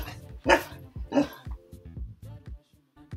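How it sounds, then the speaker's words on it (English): A dog vocalizes in a rough string of growly barks and yips, two louder bursts up front followed by softer rhythmic grumbling, close by with no talking over it. "Why are you growling? There's no reason to growl."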